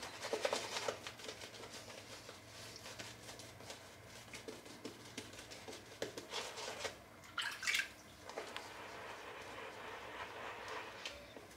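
A washing machine loaded with plenty of laundry detergent fills with water, giving a faint continuous hiss and trickle with a low hum, intermittent clicks and splashes, and a brief louder gush near the end.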